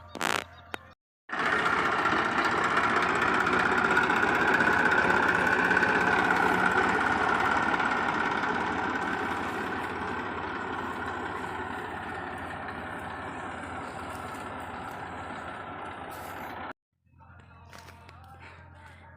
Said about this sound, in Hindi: उससे पहले मैं थोड़ा सा ट्रैक्टर चला के आती हूँ।